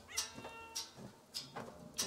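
Cat meowing in a relaxing video game, four short, fairly soft meows spaced evenly about half a second apart over a quiet background.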